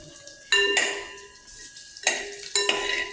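Mustard seeds crackle and splutter in hot oil in a pan, with sharp bursts of popping that come and go in clusters against a quieter sizzle.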